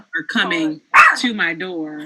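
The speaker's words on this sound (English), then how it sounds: "That is my dog you hear in the background." A dog barks in the background, a few short yips rising under a person talking close by.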